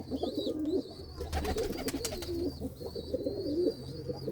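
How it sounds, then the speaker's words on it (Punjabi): Large pigeons settled to rest in the evening after feeding coo in soft, repeated rolling calls close by, with a brief flutter of wings in the middle. "ਇਹ ਆਪਣੇ ਜੀ ਵੱਡੇ ਕਬੂਤਰ ਆ ਸਾਰੇ ਜਿੰਨੇ ਵੀ ਤੁਸੀਂ ਦੇਖ ਰਹੇ ਹੋ"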